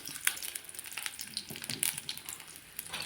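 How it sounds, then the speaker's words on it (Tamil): Tamarind and onion fry in hot oil with a faint, irregular crackling sizzle and occasional sharper pops, heard close with no talking. "இதை நல்லா வறுத்துக்கோங்க"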